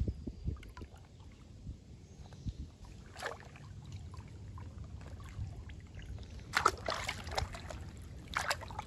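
A small wooden boat moves on a river while out catching crabs, with soft paddling and water trickling and sloshing, a few louder splashes, and a low steady hum underneath.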